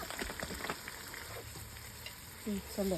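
Onions with salt fry in a pan with a soft, steady crackle and sizzle, fairly quiet, while a voice speaks briefly near the end.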